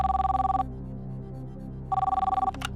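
A telephone rings on a television quiz show set as a call is placed: two clear, evenly pulsed ring bursts separated by a pause, loud and close.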